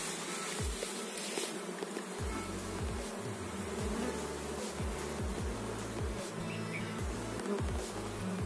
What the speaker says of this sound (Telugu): ఈగలు అనేది మళ్ళీ దీనికే వాళ్తాయి.